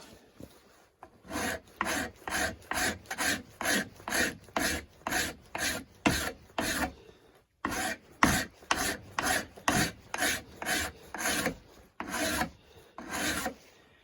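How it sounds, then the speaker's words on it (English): A bastard file draws along a knife blade clamped in a leather-padded wood vise, giving steady rasping strokes, about two per second in two runs broken by a short pause, close and alone. "draw filing with the bastard file"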